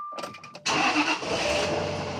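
A Jaguar XJR engine, no longer straight piped, cranks with a few quick starter whirs, then catches and roars to life, settling into a loud, steady idle up close.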